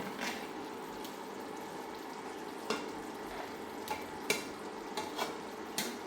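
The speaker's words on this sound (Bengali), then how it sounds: "মাছগুলি এখন একটু এপাশ ওপাশ করে দিই, কারণ মাছ আমার হাঁড়িটা অনেক বড়" Pieces of katla fish are turned and stirred in a large pot over steady frying sizzle, with a series of distinct spoon knocks and scrapes spaced through the stretch.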